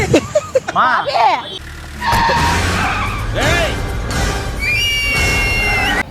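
Road traffic heard from a roadside, a loud wash of passing vehicle noise with a sharp tire-squeal-like skid at the start, under excited overlapping voices and shouting.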